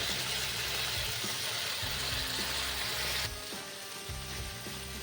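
Chicken strips frying in oil give a steady, soft crackling sizzle with a faint repeating mechanical hum underneath, continuous and close, dropping slightly in level partway through.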